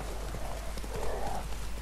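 Quick, rhythmic clip-clop of horse hooves trotting at a steady pace in the video game The Witcher 3, fairly close, with a soft background hum.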